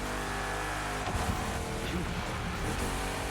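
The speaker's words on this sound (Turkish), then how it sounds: "Yo, motor sesi geliyor." Car engine in The Crew Motorfest, a loud close motor droning and revving steadily with a brief surge in pitch, alone without talk.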